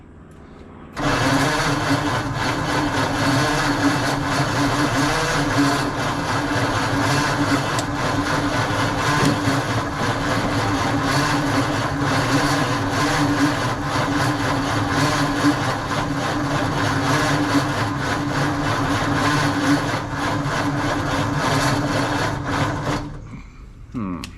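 A 1948 Ford F5 truck engine runs steadily up close, a continuous mid-pitched idle-like drone holding even for over twenty seconds before cutting off near the end.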